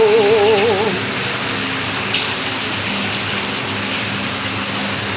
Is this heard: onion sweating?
no